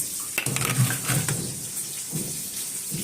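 Fish sizzles as it fries in a pan, a steady rain-like crackle with a few clinks of cookware near the start and no talking.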